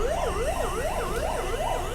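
A police car siren wails on the road near an expressway, a rapid rising-and-falling electronic sweep repeating steadily at moderate distance with no talk.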